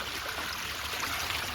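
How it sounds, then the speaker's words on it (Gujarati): Water running steadily into a cattle-shed manure pit, a continuous close rushing flow with no other sounds. "ખડ અને ગદપમાં પણ પાણી ચાલુ કરી દીધું"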